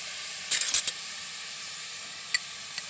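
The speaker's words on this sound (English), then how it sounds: "Hear that sizzle?" Green beans sizzle in a pan, a steady soft hiss with a few sharp crackling pops early on and a couple of faint ticks later, close and without talking.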